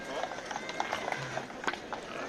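White horses' hooves clip-clop at a brisk pace as a royal carriage pulls away, moving at moderate distance, with scattered knocks and a low rumble beneath.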